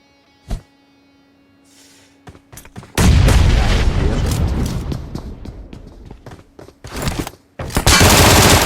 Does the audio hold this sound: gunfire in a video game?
yes